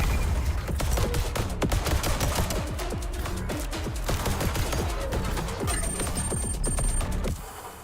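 Rapid video game pistol gunfire, a long fast run of sharp repeated shots with a brief high ringing tone near the end before the firing cuts off.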